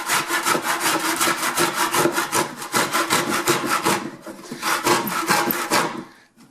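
A hand saw cuts through wood in a miter box during a utility sink installation, with rapid, even back-and-forth strokes running close and loud for about four seconds, a brief pause, then another burst of strokes before stopping.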